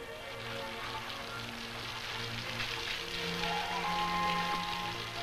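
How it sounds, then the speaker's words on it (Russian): Heavy rain pours in a steady, dense hiss, quiet and continuous, with a low background hum underneath. "Светлана Ивановна, такой дождина"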